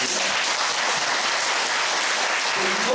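Dense, steady applause fills a church inauguration service for a new church leader, the clapping continuous and loud with no gaps throughout.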